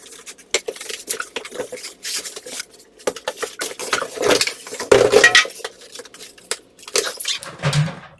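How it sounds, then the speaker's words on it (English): A Hamilton Beach extra-large 10-quart slow cooker is lifted out of its box, with a busy run of close rustles, thumps and hard clatters scattered irregularly throughout. "let me go ahead and take this slow cooker out"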